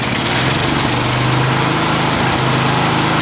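A 212cc small engine running steadily at high throttle, a loud, close, buzzing drone with a brief dip in speed, no voices.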